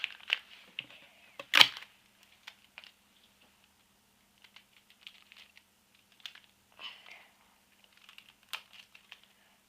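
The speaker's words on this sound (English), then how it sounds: "tape it on" Sellotape is pressed onto a paper model in quiet, sparse bursts of crinkling and tapping, with a louder rustle near the start and scattered faint touches after.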